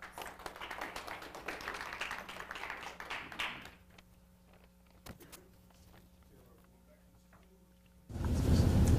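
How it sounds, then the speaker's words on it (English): A school audience at a student Shark Tank business pitch event applauds, a dense spread of claps for a few seconds that fades into a quiet hall before a loud burst of noise. "And you all give her a round of applause."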